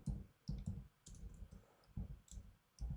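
Quick clicking keystrokes on a computer keyboard while a Python 3 command is entered, crisp taps in uneven bursts, close and fairly quiet with no talking.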